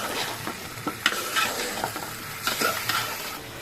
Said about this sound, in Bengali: আমার আলুগুলো ভাজা হইতে থাকে